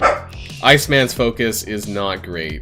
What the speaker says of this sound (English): my apologies for the barking, which I can hear through my headphones